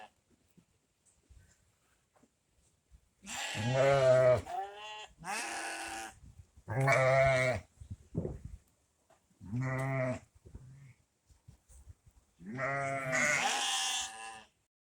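Several loud bleats come one after another with short pauses between them, close by, in an otherwise quiet setting.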